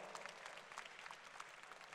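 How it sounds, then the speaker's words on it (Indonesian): An audience applauds at a student talk on contract farming, a steady, faint patter of many hands clapping throughout, distant and without talk over it. "Tepuk tangan dong."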